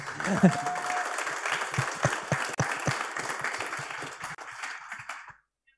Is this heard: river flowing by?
no